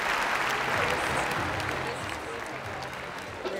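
An audience at the open-air Nibelungen-Festspiele theatre performance in Worms gives dense, sustained applause, loud at first and easing slightly toward the end, with a voice speaking faintly over it.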